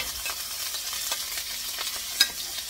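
Longaniza sausage and smoked pork chop fry in hot oil with a steady, close sizzle, broken by a few brief pops and stirring scrapes.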